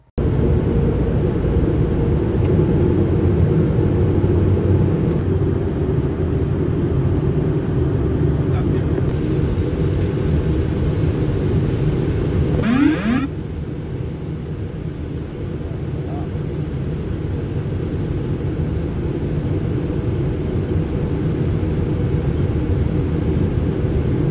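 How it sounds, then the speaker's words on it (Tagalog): Airliner landing at Riyadh airport, a loud steady roar of engine and cabin noise holding throughout with a brief rising tone midway and a slight drop in level afterward. "panoorin naman natin ang landing"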